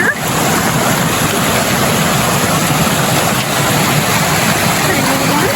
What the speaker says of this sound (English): Another little creek crossing here.